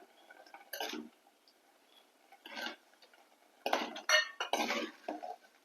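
A spoon stirs thick, sour blended curd in a metal pot, producing irregular clinks and scrapes in short bursts separated by near silence.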